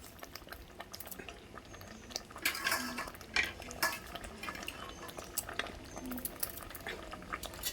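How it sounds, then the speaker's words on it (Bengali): A spoon stirs a pot of vegetarian vegetable khichuri, making repeated scrapes and clinks against the metal with a low bubbling bed beneath, and the activity grows busier in the middle. "আমি শুধু ঘন ঘন নাড়াতে থাকবো, নাহলে চোলায় বসে যাওয়ার ভয় থাকবে।"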